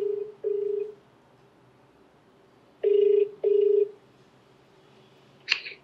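A telephone call being placed: short electronic ringback tones sound in two separated pairs of bursts, clear and fairly close, with no talk, ending on a brief higher electronic blip.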